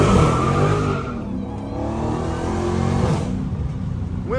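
A Dodge Hellcat engine revs hard and accelerates on wet roads during a hurricane, a loud close roar that rises and falls in pitch across several throttle surges, with no voices.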